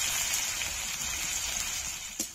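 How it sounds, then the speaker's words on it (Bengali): Chopped onions and crushed garlic frying in hot oil, a steady close sizzle with fine crackle that holds throughout and does not let up. "এবার ভালো করে পেঁয়াজটা লাল লাল করে ভেজে নেব।"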